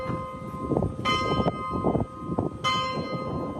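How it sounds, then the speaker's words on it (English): Church bells toll in London at the Grenfell Tower memorial, heavy ringing strikes repeating at a slow measured pace, loud and resonant with long decaying hum between strokes. "the skies above Grenfell Tower filled with the sound of church bells"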